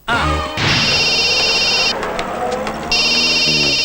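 A telephone rings loudly with a shrill electronic trill in two long bursts, separated by a short pause, while someone speaks over the start.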